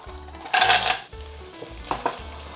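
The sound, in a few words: sautéing garlic and clams in a pan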